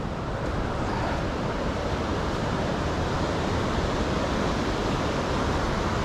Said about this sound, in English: So now the river's off my right for a little while.